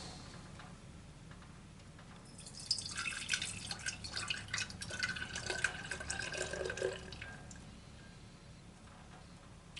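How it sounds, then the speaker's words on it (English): Copalquin tea poured from a pot into a clean jar, a soft trickling and dripping stream that swells for a few seconds in the middle and then tapers off, close and fairly quiet. "I'm going to pour it into my clean jar."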